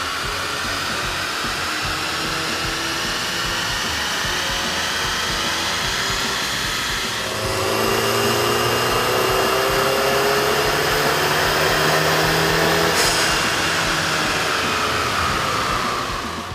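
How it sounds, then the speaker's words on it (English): A 2009 Audi A3 2.0L fitted with a K&N air intake runs on a dyno, giving a loud, steady broadband roar that rises partway through as the engine climbs in revs, then holds at high pitch. "With the air intake installed, we ran the vehicle on the dyno to test the sound comparison versus the stock intake."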